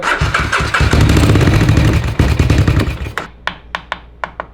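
A loud, rough four-wheeler engine runs and revs close by, then cuts off, leaving a few sharp metallic clinks and ticks spaced out in the quiet.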